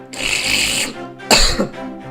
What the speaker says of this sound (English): I actually made myself cough with my intake of carbon dioxide.